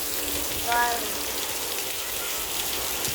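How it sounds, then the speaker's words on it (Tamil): Rain falling steadily outdoors, a dense even hiss of drops on surfaces throughout, with a faint brief tonal sound early on. "மழை பெய்யுது."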